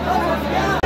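Dense crowd hubbub at Kanpur Central railway station, packed with travellers for a UP Police constable exam: a steady close wash of overlapping voices and chatter that dips briefly near the end, then swells again.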